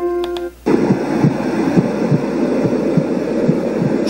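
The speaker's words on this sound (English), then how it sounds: "Sounds of a heartbeat." A Elesories S5 STD Pro sound machine plays a heartbeat track: steady, soft double thumps under a constant hum, starting abruptly after a brief tonal beep.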